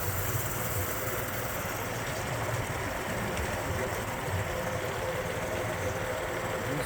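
A Honda GX390 engine idles at a steady, fairly quiet low rumble with a constant hum and no changes in speed.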